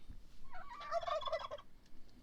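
Turkeys on a farm letting out a loud, rapid gobbling call up close, one burst of warbling chatter in the middle of a quieter stretch.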